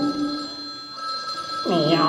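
A telephone rings during a stage performance, with a tonal electronic ring and steady sustained notes, moderately loud, followed near the end by a rising voice-like sweep.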